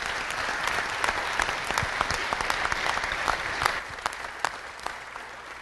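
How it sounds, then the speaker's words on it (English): Steady applause from a crowd at a city council meeting, many hands clapping densely throughout, easing slightly toward the end. "let's give them another round of applause"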